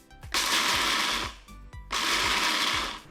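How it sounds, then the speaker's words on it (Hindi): A mixer grinder grinding about 50 grams of dalia into powder, two loud whirring bursts of the motor with a short pause between, rattling grains audible as it starts and stops. "इसको मिक्सर में घुमा लेते हैं"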